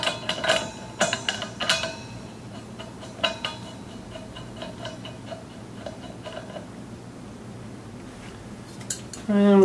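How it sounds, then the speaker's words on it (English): Metal regulator being fitted onto a TIG welder's gas bottle, giving several sharp metallic clinks and taps early on, then quieter handling over a low steady hum, with a louder knock right at the end. "We'll take the regulator and we'll put it in place."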